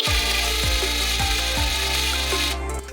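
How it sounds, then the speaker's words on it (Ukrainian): A Stromo cordless impact wrench runs at its third speed, its spindle spinning with a loud, steady motor whine and a few faint rhythmic ticks, close up, before it winds down at the end. "нажимаєте потихеньку, шпиндель крутиться потихеньку"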